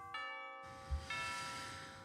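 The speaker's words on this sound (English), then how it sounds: "We've got like some Christmas bells." Christmas bells ring in several clear, sustained chimes, each bright tone lingering and overlapping the next. They are loud and close, and a brief low thump sounds partway through.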